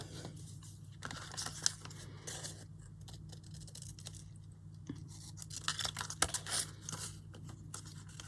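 Scissors cutting a recycled brown paper bag at close range, a series of crisp snipping and rustling strokes in uneven bursts, quiet pauses between them and no talk.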